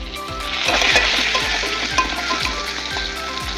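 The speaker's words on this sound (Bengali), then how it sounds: "কথা বলতে বলতে বেগুনটা একটু ভাজা হয়ে গেল" Brinjal slices frying in a pan, a loud continuous sizzle close by with a crackling hiss and faint periodic scraping as the pieces are turned.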